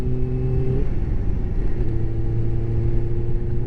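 A 600 sports motorcycle engine humming steadily while riding at cruising speed under light throttle, loud and close, its pitch dipping briefly before settling into an even drone.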